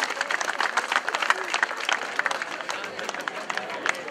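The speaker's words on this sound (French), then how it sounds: "Merci de l'applaudir très très fort" Crowd at a Breton cycling race finale applauds a rider, brisk dense clapping with sharp individual claps standing out, steady for the whole stretch.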